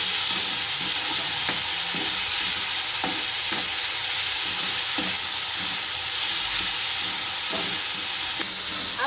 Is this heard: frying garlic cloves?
yes